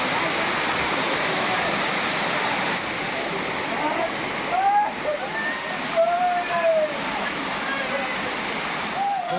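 A large waterfall at Ashok Jhar, a loud steady rushing roar filling the whole clip, with people talking and calling over it.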